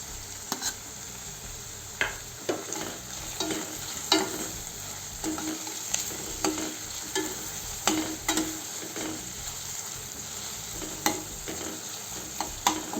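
Ginger garlic paste stirring and frying in oil over a low flame for paneer bhurji, a steady sizzle broken by regular spoon scrapes and knocks against the pan, close and alone with no talk.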